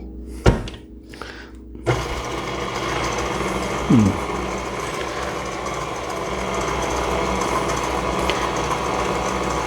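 An electric mixer runs on its lowest speed through a light peach cobbler batter. After a couple of brief knocks, it settles into a steady, close mechanical whir with a faint rattling edge.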